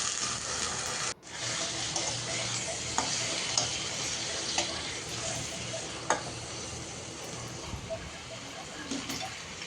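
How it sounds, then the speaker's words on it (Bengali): Onion frying in oil in a pan makes a loud, continuous hissing sizzle, broken only by a brief dip near the beginning, with occasional clicks from stirring layered over it. "প্রথমে তেল দিয়ে পেঁয়াজ দিয়ে দিলাম, তেলও দিয়ে দিব"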